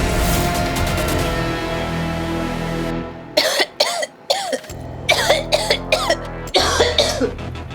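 A person coughs in a string of short, harsh bursts after a stretch of loud background sound, the coughs close and repeated with brief gaps between them.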